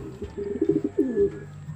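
Soft, low pigeon coos roll out in a short burst of throaty calls, close and alone.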